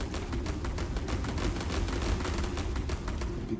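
Spaceships in Sins of a Solar Empire 2 trading weapons fire in a space battle, a dense, continuous barrage of rapid shots and rumbling blasts that stays loud and steady throughout.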